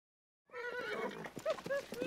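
Horses ridden by two gang members trample a farmer's crops in a Western setting, with close neighing and whinnying over clip-clopping hooves, loud after a brief silence, and voices mixed in.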